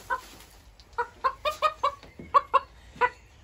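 A bearded bantam Silkie rooster clucks in a series of about eight short, close, agitated calls while being picked up, with no talk over it.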